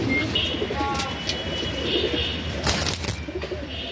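Male pigeons coo steadily, close and fairly loud, with soft chirps and a brief flutter mixed in over a constant low rumble.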